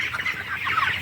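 A crowd of 22-day-old broiler chickens huddled together in a winter shed keeps up a steady, close clucking chatter, with overlapping soft calls throughout and no voices.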